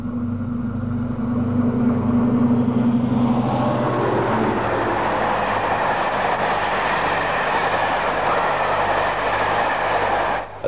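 A Deltic diesel locomotive passing at speed through Grantham, a loud rumbling engine growing into a dense rushing roar of wheels and carriages close by.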